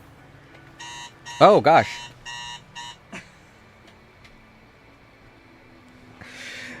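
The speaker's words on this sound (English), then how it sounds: "I had my alarm clock set because I thought I was going to miss today's stream" An alarm clock rings in repeated bursts of electronic beeping, loud and close, with a few spoken words cutting in partway.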